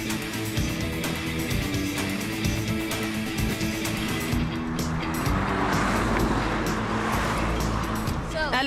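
A motorcycle riding along the main mountain road on the Titi section of a mythic island circuit, its engine a steady continuous drone with shifting road and wind rush throughout.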